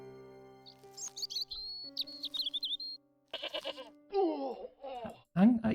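A goat in Broken Sword: Shadow of the Templars Reforged gives a few short, wavering bleats near the end, following chirpy tones and a voice talking over quiet game sounds.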